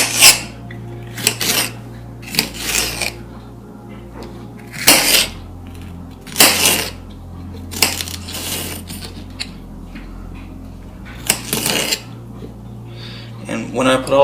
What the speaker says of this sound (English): Just cut the long strips and make it a good size.